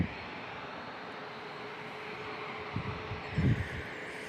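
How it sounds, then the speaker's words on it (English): A Delta A321neo jet airliner at San Diego International Airport gives a steady, moderate engine drone with a faint whine, broken near the end by a couple of short low wind buffets against the microphone. "Delta head back to the East Coast on an A321neo"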